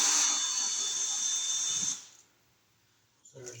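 A power screwdriver whirs steadily for about two seconds while backing screws out of an electrical box cover, then stops, leaving near silence before a brief clatter.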